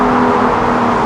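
Audi R8 with an aftermarket exhaust, a loud close engine drone holding steady for a brief moment, with no voices.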